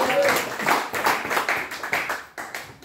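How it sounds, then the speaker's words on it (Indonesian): Church congregation clapping in praise, a short run of distinct, rhythmic hand claps close by, several separate beats spaced evenly before fading out. "Beri tepuk tangan bagi Tuhan"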